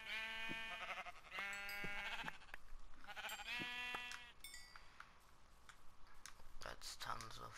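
Several sheep in Minecraft bleat in quick succession, close and clear, followed by light clicking sounds.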